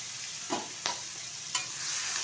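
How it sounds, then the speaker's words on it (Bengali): Shrimp frying in hot oil with a pinch of turmeric, a constant loud hiss of frying close by, broken by three brief stirring clacks. "দিয়ে দিচ্ছি ধুয়ে রাখা চিংড়ি মাছ"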